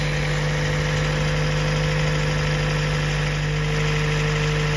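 Engine of a fourth-generation Toyota Prius running steadily at idle during exhaust gas heat exchanger repair work, a constant low hum with a strong steady tone, no voices.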